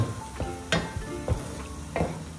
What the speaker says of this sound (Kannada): ಈ ಚಟ್ನಿಯನ್ನು ಈ ಥರ ಚೆನ್ನಾಗಿ ಮಿಕ್ಸ್ ಮಾಡಿ